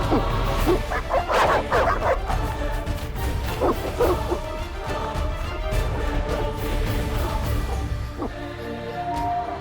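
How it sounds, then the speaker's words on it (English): Snarling, barking evil dogs attack near the outskirts of Vizima in The Witcher game, a dense, loud scramble of yelps, growls and crashes over a steady low rumble of game ambience. "They're evil dogs."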